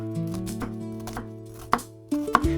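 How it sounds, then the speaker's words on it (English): Knife slicing a large halved onion lengthwise into neat strips on a board, a few distinct cuts with sharp taps against soft background music, no talking. "let's work on a large onion. It will become the base of our fragrant sauce. Cut in half, make neat lengthwise cuts."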